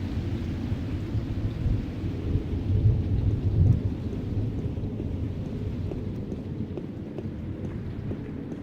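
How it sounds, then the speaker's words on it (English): Rolling thunder and steady heavy rain in the night-time storm of the game The Black Mirror, a continuous loud rumble that swells briefly in the middle before settling into a constant downpour. "When will the storm end?"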